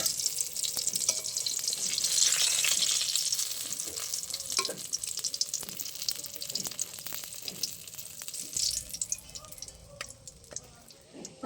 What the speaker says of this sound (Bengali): বেগুনগুলো লাল লাল করে ভেজে নিয়েছি, এই দেখুন তুলে নেবো এবার।